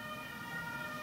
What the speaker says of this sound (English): Let's let the ambulance pass.